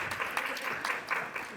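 Brief audience applause for two Brazilian architects at a panel event, a short steady patter of clapping filling the moment.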